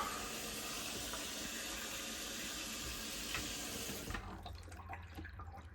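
A steady, moderate rush of water pours out through a newly fitted drain pipe on a canal boat. It flows continuously and then eases to a lighter trickle near the end.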